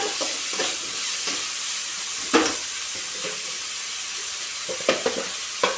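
Capsicum frying in a pan for white sauce pasta, with a steady broadband sizzle and occasional scraping stirs, close and moderately loud, no voices.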